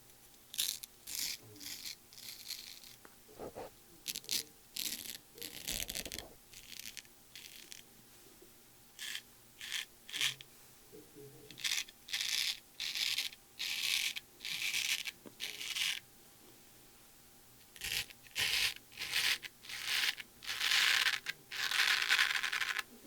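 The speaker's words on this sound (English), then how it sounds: "Oh, that's some nice scraping there." A German straight razor scrapes through beard stubble in close, repeated strokes, each a short raspy burst with brief pauses between, fairly quiet and alone.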